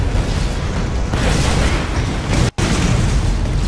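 A vehicle blows up in the Borderlands video game with a loud, sustained booming explosion that rumbles close and heavy for several seconds and briefly cuts out near the end.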